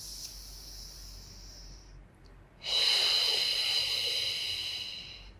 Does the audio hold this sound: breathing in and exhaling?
yes